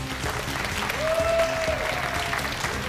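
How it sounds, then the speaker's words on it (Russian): Studio audience applause on a television talk show, continuous and even throughout, a dense crowd of clapping hands at moderate distance. "Встречаем их аплодисментами."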